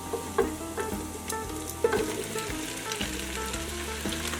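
Three peeled russet potatoes, part of a Zuppa Toscana soup, are pushed around in a pot with a utensil, giving repeated scraping strokes over a steady, gentle sizzle, close by and with no talking.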